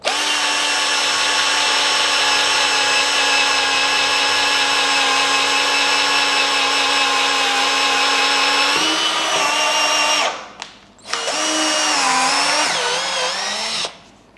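DCA cordless drill running at speed 1, drilling wood with a loud steady whine that holds for about ten seconds, stops briefly, then starts again and runs on.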